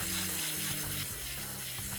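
Water from a hose sprays onto a house roof, starting at the bottom of a valley; a steady broadband hiss runs continuously, with low hum in the background.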